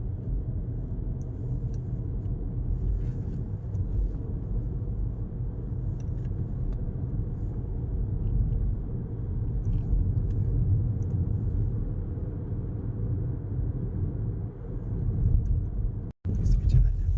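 A recently serviced car's engine pulls away from a stop on a narrow road, a steady, close, low rumble that holds throughout and swells slightly near the end.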